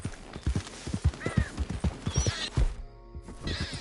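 Horse hooves clip-clop at a trot in the PS4 game Red Dead Redemption 2, a quick, close, uneven rhythm of thuds with faint game tones and a brief break near the end.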